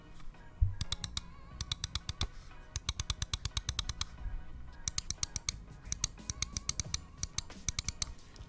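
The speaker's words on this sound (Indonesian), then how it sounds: "berikut adalah suara switch dari tiap button mouse-nya" Left and right buttons of a Razer Viper Ultimate mouse with optical switches are clicked in rapid bursts. The crisp, close clicks come in quick clusters separated by short pauses, with no talking.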